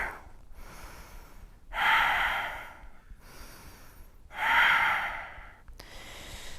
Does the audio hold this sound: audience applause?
no